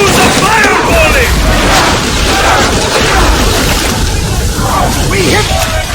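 A fireball volley strikes an enemy ship in an Assassin's Creed Odyssey naval battle, loud continuous booming impacts and crackling fire filling the whole stretch, with shouting voices mixed in.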